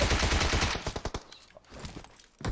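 Gunfire in the mobile battle game PUBG Mobile: a loud, dense burst of rapid automatic shots, then scattered, spaced-out shots that thin and fade before a final crack.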